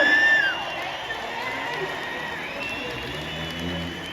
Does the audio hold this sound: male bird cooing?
no